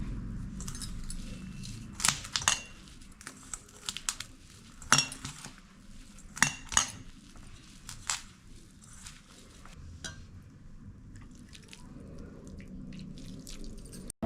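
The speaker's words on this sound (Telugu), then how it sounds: "కొంచెం బేకింగ్ సోడా వేసుకొని బాగా అయితే కలుపుకోండి" Gram flour bonda batter mixed in a bowl: irregular sharp clinks and scrapes of a utensil against the bowl, some louder knocks spaced over a quiet wet background, close by, no talk.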